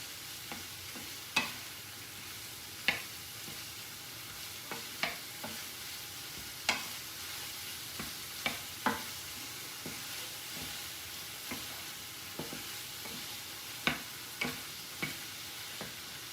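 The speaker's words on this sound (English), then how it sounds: "I want that to cook for just a minute until that onion is a little more translucent" Onion cooking in a skillet over medium heat, a quiet, steady sizzle with occasional light clicks and taps of a utensil against the pan.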